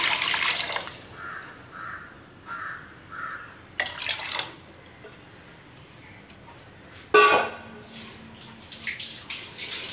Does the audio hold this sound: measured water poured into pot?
yes